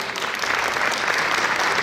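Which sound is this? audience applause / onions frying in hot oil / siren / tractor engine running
audience applause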